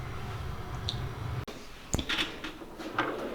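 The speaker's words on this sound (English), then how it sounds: "Start with the top drawer." A metal tool box drawer slides open with a low rolling rumble, ending in a sharp click, followed by a few faint light taps and rattles.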